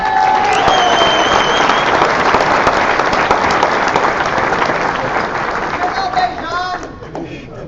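An audience at a high school sports awards banquet bursts into loud, sustained applause with scattered whistles and cheers, slowly thinning out toward the end.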